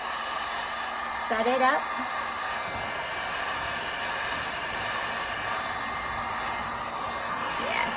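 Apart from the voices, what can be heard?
heat gun blowing on alcohol ink on furniture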